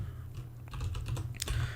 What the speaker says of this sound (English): So we can go ahead and type